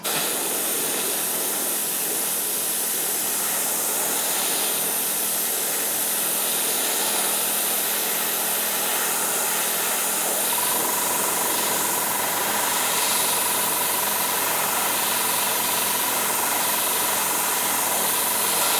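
Gaahleri gloss black primer sprayed onto a pair of spoons, a steady close aerosol hiss running unbroken throughout with no pauses, alone without any voices.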